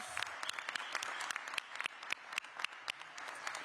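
An audience claps at a public safety announcement by the New York mayor, a dense, steady patter of many hands with sharp individual claps standing out, continuous for several seconds.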